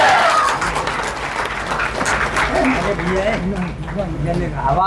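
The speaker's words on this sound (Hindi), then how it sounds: "सभी लोग एक कबीर साहब का जयकारा लगाते हुए और ताली बजाएंगे" A crowd at a Kabir Jayanti procession gathering claps and shouts praise to Kabir Sahab, loud, dense clapping mixed with many voices cheering together throughout.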